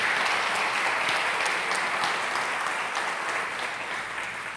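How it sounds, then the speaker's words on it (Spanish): A church congregation at a fathers' festival gives strong applause to the dads present, a thick continuous roar of clapping that stays loud and fades slightly toward the end. "nosotros hoy les vamos a dar un fuerte aplauso a todos los papás hoy aquí por todo lo que hacen"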